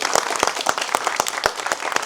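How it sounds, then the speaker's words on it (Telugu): Audience applause at a Ganesh festival celebration, a steady patter of many hands clapping close by for about two seconds, fairly loud with no talk over it. "మళ్ళీ ఒకసారి అందరు గట్టిగా క్లాప్స్ కొట్టాలి"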